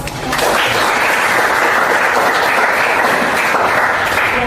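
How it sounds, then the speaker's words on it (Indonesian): Loud, dense applause from an audience gathered for a teacher-training session sweeps in after a brief pause and holds steady as a full, close wash of clapping until the end. "Kalau tidak ada, kita kasih aplaus."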